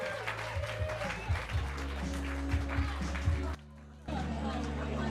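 Audience applause at the end of a live comedy show: a dense, steady wash of clapping from a crowd that cuts out briefly near the end, then resumes.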